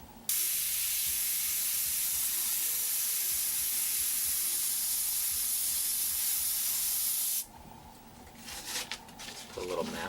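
An airbrush sprays paint in a long, steady hiss that runs loud and close for about seven seconds, then cuts off, leaving quieter handling noises behind it.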